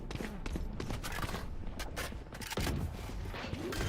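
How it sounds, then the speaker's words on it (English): Gunfire in the VALORANT video game: rapid bursts of shots in quick volleys mixed with mechanical clicks and movement sounds, loud and close, with no talking. "Bit of gunfire"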